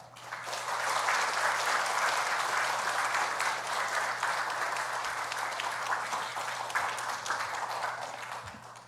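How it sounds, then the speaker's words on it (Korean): A church congregation claps steadily to welcome a guest speaker at a Sunday service, a dense, sustained wash of applause that holds evenly from start to finish over a low hum. "우리 나오실 때 우리 박수로 환영하고 축복하겠습니다"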